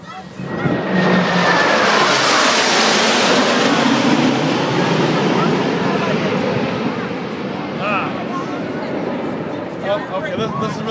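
Blue Angels jets make a sustained, loud roar as they pass overhead at an airshow before landing. The rumble swells and slowly fades, with people's voices mixed in.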